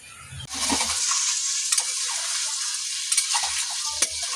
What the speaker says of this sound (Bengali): এদিকে তো আমি সয়াবিনটা ভাজতে বসিয়ে দিয়েছি,